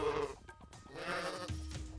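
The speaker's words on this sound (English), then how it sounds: "Oh, they baa like sheep." Units in the strategy game Wargroove bleat like sheep, a short run of nasal, wavering baa calls, close and fairly loud, with no talk over them.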